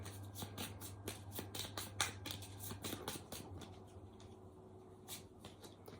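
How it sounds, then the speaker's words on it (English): Tarot cards being shuffled by hand at close range, a run of quick papery riffles and flicks with brief pauses and a steady low hum underneath, no voices. "So let's have a little shuffle and see."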